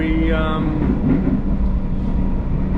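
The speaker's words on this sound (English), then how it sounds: "we're catching the train to country Victoria" A moving passenger train in country Victoria, Australia, heard from inside as a steady loud rumble and rolling hum throughout, with a brief high tonal whine early on.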